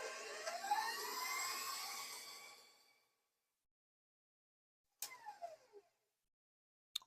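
A stand mixer whirs steadily for about three seconds while beating a maple and apple tart filling, then cuts off; after a silence come brief clattering bursts of the beater, then a short final knock.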